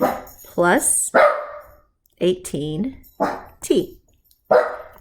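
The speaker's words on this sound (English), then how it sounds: "sorry about the barking dog." A dog barks repeatedly in short, sharp bursts close by, interleaved with a person talking through a lesson; the barks cut in at irregular intervals over several seconds.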